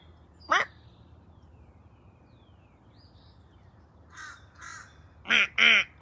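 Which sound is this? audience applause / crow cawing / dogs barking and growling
crow cawing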